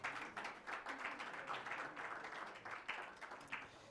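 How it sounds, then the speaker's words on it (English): Audience applause for panelists at a university media innovation summit, a fairly quiet, steady patter of many hands clapping with slight swells, heard from a distance in a large hall. "Let's give them a big round of applause."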